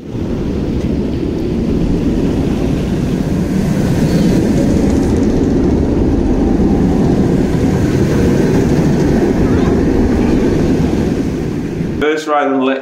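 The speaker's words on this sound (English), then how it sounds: "First ride on Let Coaster," Lech Coaster, a roller coaster at Legendia in Poland, recorded on board near the front: loud, sustained roaring rumble of the train on the track and rushing wind, with a brief voice near the end.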